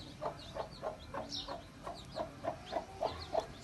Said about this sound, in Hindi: ये हमारी प्यारी मुर्गी कुड़ूक हुई है।